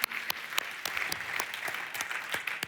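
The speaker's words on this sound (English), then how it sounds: "A big round of applause to the DLD Dream Team." Applause from the audience at the DLD25 conference comes as a scattered but continuous patter, with individual sharp claps punctuating it, fairly quiet and distant.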